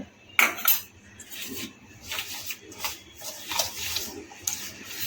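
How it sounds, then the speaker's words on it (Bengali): A whisk or spoon scrapes and taps against a bowl while batter is beaten with yogurt water, in uneven strokes with a few sharp clinks, close and moderately loud, with no talking. "ভালো করে এটাকে ফেটিয়ে নেব"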